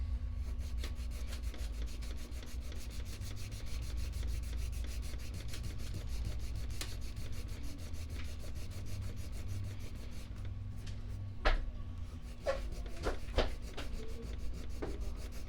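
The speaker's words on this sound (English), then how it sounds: "I'm trying to keep the pocket sanded pretty evenly, but I'm not taking off so much." Steady abrasive rubbing as sandpaper works the wooden neck pocket of a bolt-on guitar body, a continuous close scratchy rasp with a few sharper strokes near the end, no voices.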